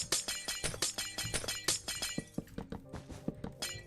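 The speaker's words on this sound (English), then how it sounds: "Loud glass breaking sounds." Glass breaking in Minecraft, a rapid run of many sharp shattering crashes and clinks, loud and close, repeating in a dense, uneven burst.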